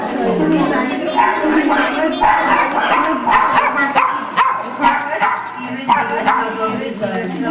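Small dogs at a rescue shelter yip, bark and whimper excitedly as they crowd around, with busy overlapping high-pitched calls close by while someone talks over them.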